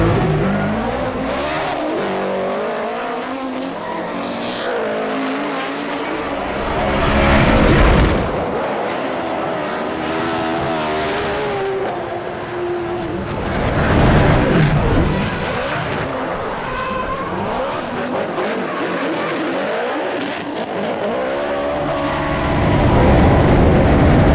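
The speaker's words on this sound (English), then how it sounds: "Tony Bishop, there may not be a better sound in drifting." Drift cars' engines roar and rev hard as they pass and circle, with screeching tires and echoes off nearby barriers, swelling louder at moments, at a drifting event in New Zealand.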